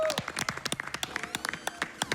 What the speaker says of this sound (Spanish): ¿Para quién pido un fuerte aplauso?